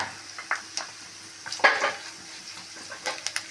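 Chopped onion and green chili in coconut oil in a pan, with soft intermittent stirring scrapes and a few light utensil clinks over a quiet, faint sizzle.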